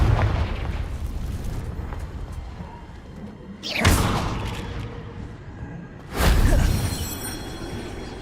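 Confringo, the fiery blast spell from the video game Hogwarts Legacy, erupts as two loud booming explosions a few seconds apart, each with a sharp whooshing burst that trails off over a low rumbling game background.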